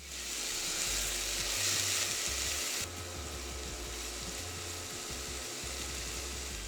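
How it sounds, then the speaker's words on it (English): Chopped onion and garlic sauteing in olive oil, a steady close sizzle that is louder for the first few seconds and then settles into a constant hiss with faint low rumble beneath, no talking. "Add the chopped onion and garlic. We want to saute these until they're fragrant and translucent"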